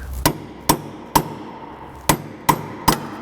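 Six sharp metallic taps from a hammer striking a brass drift against a car part on a Ford Fairmont, evenly spaced and close, each ringing briefly.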